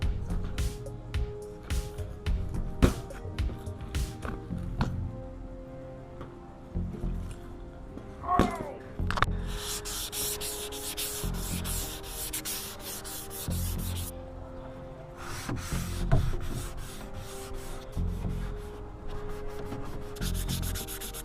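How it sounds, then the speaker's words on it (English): Hand sanding with a worn-out piece of sandpaper scuffs up a painted wooden frame, a steady close rasping rub in repeated back-and-forth strokes with brief pauses and louder bursts of scratching. "I'm just going through and just scuffing this thing up with a kind of worn out"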